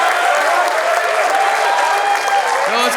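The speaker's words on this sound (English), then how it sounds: "We got 600 people here, only 50 people clapping." Applause from an audience of students at a school town hall, a dense, steady wash of many hands clapping that fills the whole stretch at a loud, even level, with a voice faintly rising near the end.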